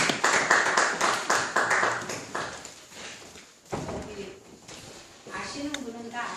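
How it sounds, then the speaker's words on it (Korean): A burst of lively clapping from a group at a Korean church arts colloquium for the first couple of seconds, fading into quieter sound with a voice. "우리 김문수 목사님 노래 한 곡 듣고 시작을 박수로 청해 듣겠습니다"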